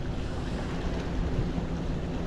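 Sea waves breaking at the shore during rainy-day angling, a constant wash of surf mixed with wind noise on the microphone, no voices.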